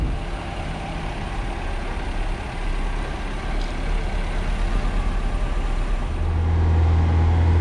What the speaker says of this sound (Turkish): Evet şu an gaza basıyorum. 3000 sabit devirde.